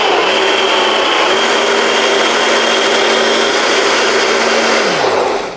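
An electric blender grinds soaked rice into idli batter with a loud, steady motor whir that holds for about five seconds, then winds down at the end; no voices are heard.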